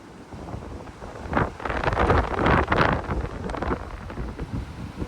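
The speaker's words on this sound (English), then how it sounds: "Still blowing pretty heavy, the wind" Strong cyclone wind at Coolangatta buffets the microphone in heavy roaring gusts that swell and ease, with the loudest stretch in the middle and a steady blustery roar throughout, no talking.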